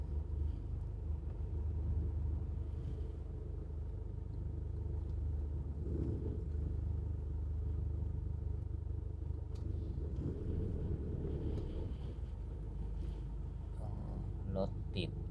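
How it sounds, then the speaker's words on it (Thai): Slow road traffic stuck in a jam near The Mall Tha Phra in Bangkok, beside tunnel construction: a steady low engine rumble and hum with occasional passing vehicle noise, heard under a voice. "รถติดนะ"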